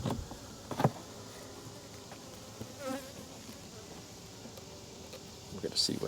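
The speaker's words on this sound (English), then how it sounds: "there is a mass of bees here" Honey bees massed in an opened hive: a faint, steady low buzzing hum with a few closer bees droning past, under occasional quiet handling noises and a voice.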